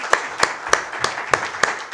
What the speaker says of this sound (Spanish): Otro aplauso para Francisco José Paolo